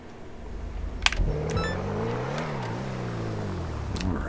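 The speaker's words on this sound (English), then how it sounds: "Oh, it's got a nice hum." Ocelot XA-21 supercar idling in GTA 5 Online, a smooth steady engine hum through a central exhaust with the pitch rising and falling gently as it revs, accompanied by a couple of sharp clicks and a brief tonal interface chime.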